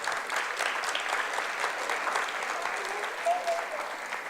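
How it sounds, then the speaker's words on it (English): Audience applause at a celebration opening a new Africentric school campus, a steady wash of many hands clapping that holds evenly for several seconds from the room. "Yeah, you can clap for that."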